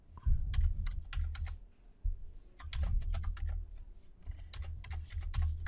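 Fast typing of a MATLAB formula on a computer keyboard, with dense, close key clicks in steady bursts and a brief pause midway.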